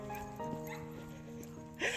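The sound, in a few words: small dog barking in a yard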